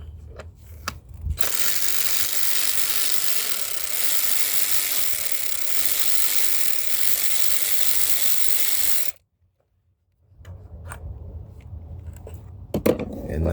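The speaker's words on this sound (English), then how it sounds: "Let's remove this 10mm bolt." Ratchet loosening a 10mm bolt on the vapor canister purge valve of a 2012 Cadillac CTS 3.0L, a steady close clicking run lasting several seconds, then a pause and some light handling noise.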